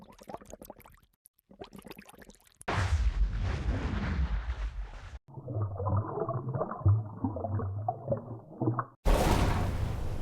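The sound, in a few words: underwater booms and waves sound effects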